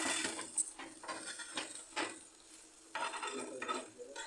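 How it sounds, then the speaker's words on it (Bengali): A knife cutting a folded fried egg into three pieces in a pan: several soft scraping, tapping strokes against the cookware, quiet and close, with no talk over them. "নিয়ে এটাকে কেটে নেব, 3টে পিস করে নেব।"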